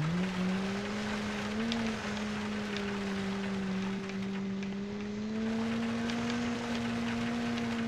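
A car races up a gravel Pikes Peak course in BeamNG Drive, its engine a steady, sustained whine that rises and dips slightly with speed, accompanied by a rough, continuous wash of road noise.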